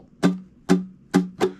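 Four quick down-down-down-up strummed chords on a ukulele, three evenly spaced followed by a faster fourth, close and moderately loud with no talking.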